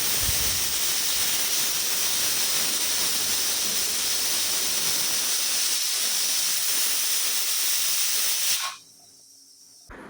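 Lentils cooking for sambar send out a steady loud hiss of steam, continuous for about eight seconds before cutting off abruptly into quiet, with no talk.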